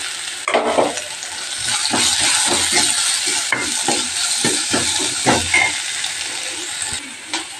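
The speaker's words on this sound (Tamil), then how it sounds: "பூண்டை சட்டி வச்சது சேர்த்திக்கலாம் வெங்காயம் கருவேப்பிலையும் சேர்த்துக்கலாம்" Garlic, onion and curry leaves frying in a hot pan for a raw banana dish, a loud continuous hiss and sizzle with repeated spatula stirs and scrapes, close by, no talk.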